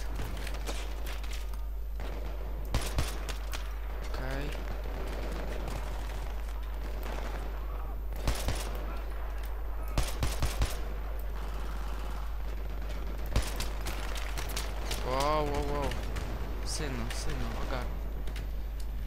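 Gunfire in the shooter Battlefield 3 comes as scattered sharp shots and short bursts spread over the clip, some close and loud, others fainter, while players talk throughout in Polish.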